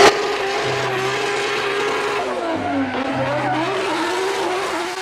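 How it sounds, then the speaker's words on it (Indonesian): Engine-like race car sound with tire-squeal accents from a toy race car being handled during cleaning, a steady loud whine running throughout with no talk. "Mobil balap."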